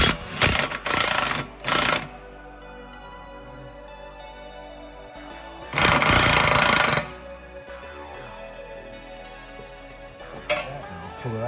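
Impact wrench spinning off 17 mm bolts on the rear camber arms of a Mazdaspeed 3, loud buzzing hammering bursts, two short ones early and a longer one midway, between quieter garage background.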